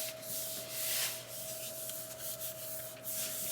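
Heat transfer vinyl being flattened onto a cutting mat with a brayer or scraper, heard as a close, steady rubbing and scraping that swells and fades in soft repeated passes, alone with a faint constant hum beneath.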